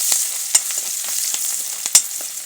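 Onions fry in hot oil with a steady, close sizzling hiss, broken by a few sharp scrapes and knocks as a spoon stirs the pan.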